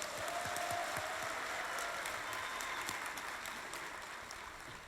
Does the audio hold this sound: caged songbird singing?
no